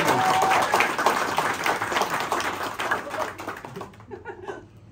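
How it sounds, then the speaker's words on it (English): Wedding guests applauding the newlyweds in a loud, dense burst of clapping that gradually thins and fades out near the end. "But reserve your most rapturous round of applause for the stars of the show, Leeann and Jamie."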